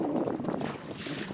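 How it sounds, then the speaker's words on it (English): Strong wind gusts buffet a fishing boat on rough water, a steady broadband rush with wind noise on the microphone, brief and fairly loud, with no talk. "It sucks out here, very windy."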